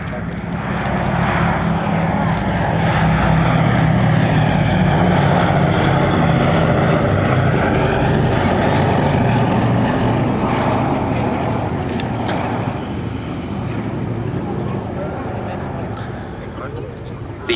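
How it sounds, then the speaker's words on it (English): A B-17G Flying Fortress flies at an air show at Duxford, its propeller engines making a loud, sustained drone that swells and then fades slightly, with a voice heard beneath it. "Here, the B-17G model, in many ways the definitive flying fortress,"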